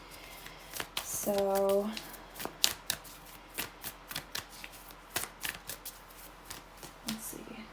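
Tarot cards being shuffled by hand, a quick series of soft riffling slaps and flicks at close range, with a brief spoken word near the start.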